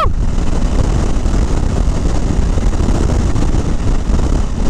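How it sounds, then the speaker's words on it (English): Strong wind roars and buffets continuously during a motorcycle ride on a Honda Africa Twin, a dense low rumble filling the whole stretch with no talking. "it was quite windy, but not this windy"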